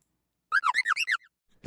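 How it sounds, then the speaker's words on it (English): Zapdos cry from a Pokémon video game, a small bird-like whistle: six quick, bright chirping notes in a rapid burst, loud and close, followed by a faint trailing note. "it is the Zapdos sound"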